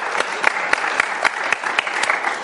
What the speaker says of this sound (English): How well is applause picked up in the audience?